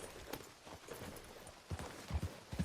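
Horse hooves clip-clop in Red Dead Redemption 2, a few soft irregular thuds that grow firmer toward the end, fairly quiet over a faint ambient background.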